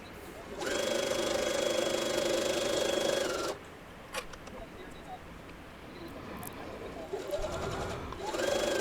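A sewing machine back stitching an insulated tote: a steady, fast mechanical whirring run of about three seconds, a pause with small clicks, then another shorter burst of stitching.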